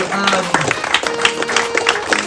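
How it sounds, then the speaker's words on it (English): Audience at a book tour event applauding author Jemima Hughes, close busy clapping from a small crowd with a few voices over it. "Folks, massive round of applause for Jemima Hughes."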